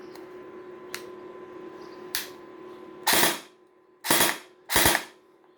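A toy gun gives a few light mechanical clicks, then fires three sharp, snappy shots in quick bursts, close and loud against a quiet room.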